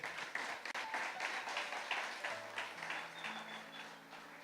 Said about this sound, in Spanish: por favor, denle un fuerte aplauso al Señor.